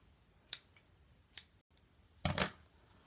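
Scissors trim the excess ends off a knot tied on a fabric K-Cup bag tag, making three quiet, close snips, with the last one longest and loudest.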